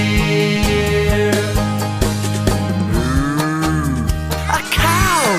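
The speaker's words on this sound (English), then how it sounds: "A cow," A cow on a farm gives a loud, drawn-out moo that rises and falls in pitch, set against a bouncy children's song with music playing throughout.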